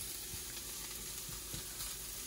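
Onions caramelizing as they fry in a pan, a steady, faint, close hiss of sizzling oil with a few soft stirring clicks, no voices.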